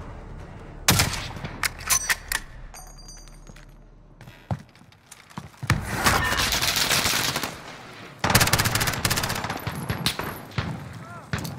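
Bursts of close and distant automatic gunfire in the Warzone battle royale game, with scattered single shots, two long heavy volleys of continuous fire and faint game sounds in between.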